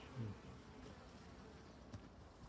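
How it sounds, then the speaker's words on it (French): An Asian hornet flies in front of beehives, a faint buzzing drone with brief louder passes close to the microphone. "un frelon asiatique qui pose des problèmes à cette colonie"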